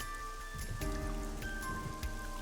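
Pouring rain in the video game AI: The Somnium Files makes a dense, steady hiss with scattered drop patter, heard alongside tonal game music.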